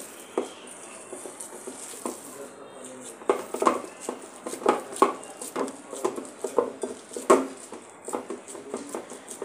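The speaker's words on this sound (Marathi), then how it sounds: "आणि हे सर्व मिक्स करून घेऊया।" A spoon clinks and scrapes against a bowl while ingredients are mixed for a sandwich bread pakoda, the taps coming in irregular clustered bursts at close range against a quiet background.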